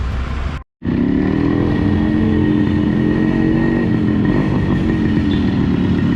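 A Yamaha RX100 motorcycle engine running steadily and loud close by, a continuous two-stroke drone broken by one brief silent gap near the start.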